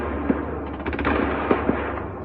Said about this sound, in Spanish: disparos de armas ligeras y pesadas